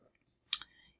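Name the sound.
computer mouse clicking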